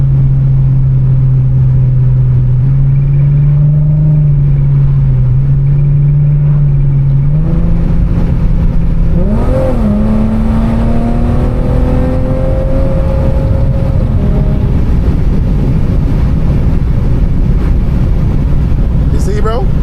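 700 hp Infiniti G37 with tires losing traction: a loud steady engine drone holds at first, then the engine note jumps and climbs as the wheels spin under acceleration, with faint tire noise and wind rush.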